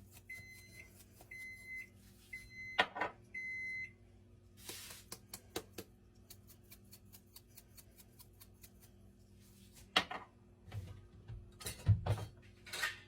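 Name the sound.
oven beeping when it finishes preheating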